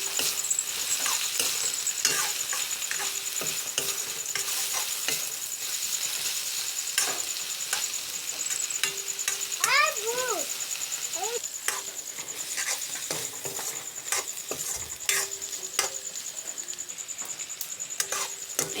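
Dried fish and fiddlehead fern fry in a pan, a steady sizzle beneath repeated scraping and clacking strokes of a spatula as the mix is stirred.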